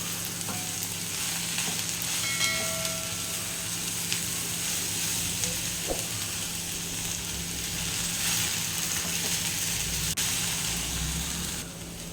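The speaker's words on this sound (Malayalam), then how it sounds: "ഇതിങ്ങനെ ഇടയ്ക്കിടയ്ക്ക് നമുക്കൊന്ന് ഇളക്കി കൊടുത്തുകൊണ്ടായിരിക്കണം." Okra thoran frying in a pan and stirred now and then, a steady, close sizzling hiss with occasional light utensil taps and scrapes.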